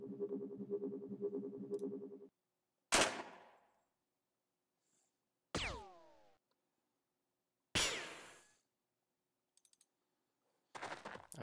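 Gunfire in the tactical game Jagged Alliance 2: a humming electronic tone, then four sharp single shots spaced a couple of seconds apart, each ringing out and decaying, with faint clicks and a short burst at the end.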